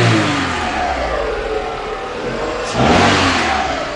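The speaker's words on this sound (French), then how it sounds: "Là, ou deux coups de gaz." A Renault 1.2 D4F petrol engine idles after a timing belt and water pump job, then is blipped once, rising to a short close rev before settling.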